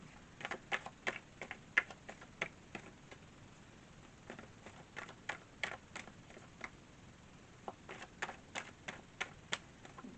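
Quiet, irregular soft clicks and flicks of tarot cards being shuffled, close by, in a rapid uneven patter.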